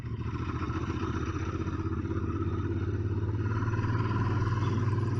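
A Royal Enfield Interceptor 650 motorcycle lugs along in sixth gear at low speed, its twin-cylinder engine giving a steady, deep, throbbing drone that swells slightly as it pulls, close and continuous with no talk.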